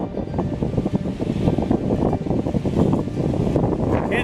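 A strong October gale buffets the microphone on Lake Superior's 12 Mile Beach, a loud, continuous roar and rumble with gusty surges and no voices.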